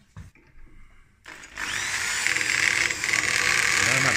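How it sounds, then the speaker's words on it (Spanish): Small electric power drill boring into wood while building a wooden sissy bar, starting after brief talk and a pause, then a steady loud whine with slight speed changes to the end. "Toma, tírale todo el taladrín."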